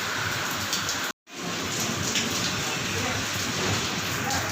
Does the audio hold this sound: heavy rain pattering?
yes